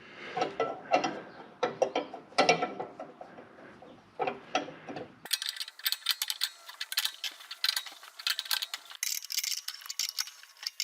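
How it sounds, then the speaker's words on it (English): A 15 mm ratcheting wrench clicks in rapid bursts as it loosens a bolt on the mower deck of a Simplicity Courier zero-turn, close and fairly quiet. "The correct wrench for this is a 15 millimeter. And this needs to go down, so I'm going to be loosening it."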